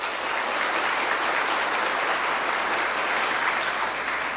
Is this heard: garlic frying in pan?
no